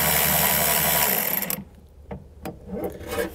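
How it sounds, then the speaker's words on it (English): Socket wrench ratcheting a bolt loose while installing an EcoHitch Stealth trailer hitch receiver: a loud, steady grinding rasp of clicks close by, which stops abruptly and is followed by a few faint metallic taps. "if you can take it off pretty much completely with your socket"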